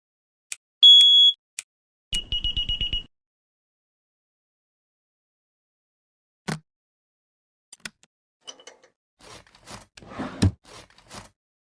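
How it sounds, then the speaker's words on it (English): Electronic alarm in a video game: a long steady high tone, then a rapid run of pulsing beeps, followed by scattered clicks and shuffling game sounds, alone without talk. "Crap, the alarm's going off"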